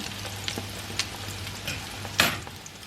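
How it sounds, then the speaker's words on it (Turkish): Steady frying sizzle in a pan with a low hum underneath and a few clinks of utensils, one sharper clatter near the end. "ben bunları kızartayım"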